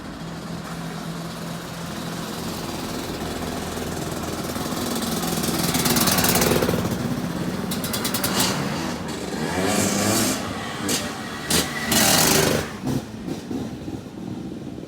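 A racing motorcycle at the Isle of Man TT roars past, its engine building to a loud high-revving peak around the middle and again near the end, with sharp bursts of noise from the passing machine and crowd surroundings.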